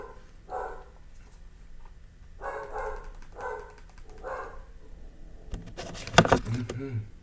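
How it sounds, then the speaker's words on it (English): A dog barks in a few short bursts spaced apart, moderately close, followed by a louder clattering burst near the end. "my dog's barking"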